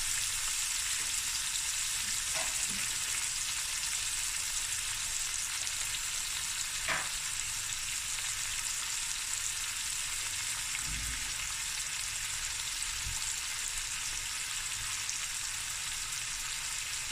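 Curry leaves and pepper frying in a pan, giving a constant close sizzle with a few sharper crackles and pops along the way, no voices.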